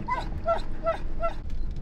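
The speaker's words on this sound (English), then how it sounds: "she stuck her head out the window and started barking because she likes the reverb" A dog with its head out of a car window barks in a tunnel, four short, evenly spaced yelps with a reverberant ring over steady road rumble.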